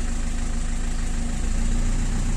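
A diesel engine with a faulty idle-up idles steadily at close range, a loud, even low rumble with a continuous throbbing vibration and no talk over it.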